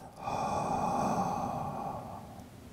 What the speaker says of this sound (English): And exhale out your mouth.